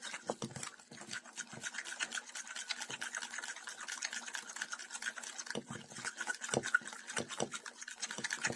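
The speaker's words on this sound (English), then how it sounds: "So I'm going to give that a little mix with the butter and the sugar and the molasses." Soft, continuous scraping and rubbing as butter, sugar and molasses are stirred together by hand for banana cake batter, quiet and close with small irregular taps of the utensil against the bowl.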